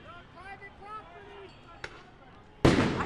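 Fireworks and less-lethal munitions at a street protest: a sharp crack partway through, then a loud close blast near the end, with a person's voice heard faintly earlier in the clip.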